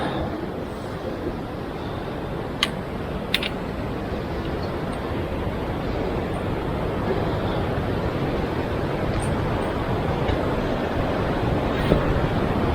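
A mountain river rushes steadily along a trekking route, a broad continuous roar of water that holds constant throughout with no voices.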